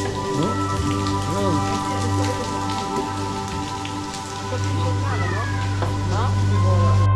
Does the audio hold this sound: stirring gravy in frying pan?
no